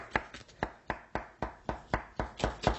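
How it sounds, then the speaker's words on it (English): A knife cuts a shape out of a checkerboard Neapolitan cake, giving about ten regular, close, sharp taps of the blade meeting the board, alone and fairly quiet. "just using a knife, I'm just going to go around and cut this shape out"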